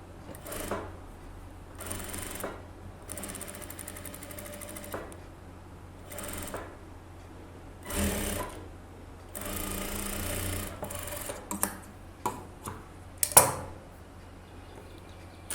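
A sewing machine stitches around a blouse lining in a series of short, whirring bursts, some brief and some longer, separated by quiet pauses with faint handling noises between runs.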